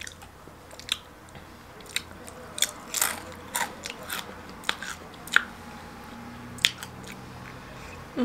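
Crunchy Mexican-flavored Doritos tortilla chips being bitten and chewed close up, with scattered sharp crackly crunches over a quiet background and no talking.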